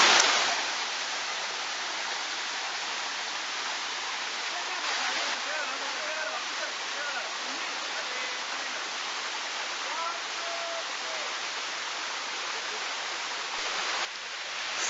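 Water pouring down the Sticky Waterfall in Chiang Mai, a steady broadband rush that fills the whole span, loud and close, with no break in the flow.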